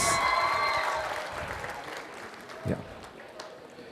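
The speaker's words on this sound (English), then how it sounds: "Give a big round of applause, please." Audience applause at a graduation ceremony and cultural festival: steady clapping from a crowd, loudest at the start and gradually fading, with some voices mixed in underneath.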